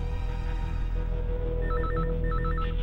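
A telephone rings in two short trilling bursts over a steady background hum.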